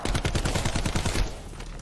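Rapid automatic gunfire from a weapon in a Call of Duty zombies map, a close, loud burst of evenly spaced shots that trails off toward the end.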